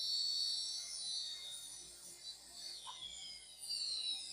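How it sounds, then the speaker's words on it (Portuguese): A small rotary tool, held at a tilt and run at medium speed with only the tip of its drill bit, thins an F1 nail-extension mould, giving a continuous high-pitched whine over faint rubbing. "somente a pontinha da broca, motorzinho inclinado"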